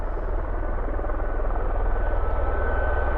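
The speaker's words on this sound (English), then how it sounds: "there's an Osprey just about to take off" A V-22 Osprey tiltrotor aircraft sits at an airport before takeoff, its rotors making a loud, steady, throbbing roar with a deep low rumble that persists without a break.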